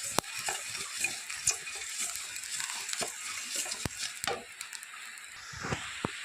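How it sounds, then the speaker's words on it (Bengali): Rice grains dry-roasting and popping in a pan, heard as a close, steady hiss broken by frequent scraping stirs and small clicks and knocks of a utensil against the pan, with no talking. "এই জন্য একটু চাউল ভেজে নেব"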